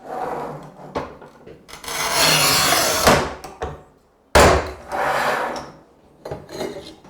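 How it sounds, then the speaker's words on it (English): A wheel on a manual tile cutter scribing across a tile, heard as several loud scraping, rasping strokes with short pauses between them and a sharp knock partway through. Nobody speaks. "hold the tile down, line up our wheel and scribe"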